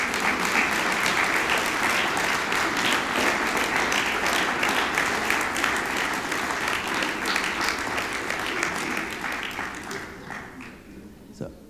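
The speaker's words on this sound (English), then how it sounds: "So if you could please applaud the people that have been in your support network." At a BISJ 2023 graduation ceremony, the audience applauds the graduates' support network: sustained, loud hall-wide clapping that gradually thins and fades toward the end.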